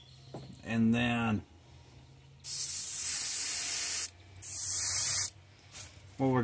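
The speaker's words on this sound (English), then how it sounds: "what we're going to do is spray his belly" Bursts of steady airbrush spray hiss as pearlized white paint goes onto a golden shiner fish's belly, three long passes separated by pauses, with a voice speaking briefly between them.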